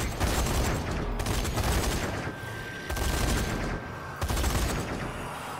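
Heavy machine gun turret in Zombie Army 4 firing sustained loud bursts at a horde of zombies, dense rapid rattling broken by two short pauses, no talk over it.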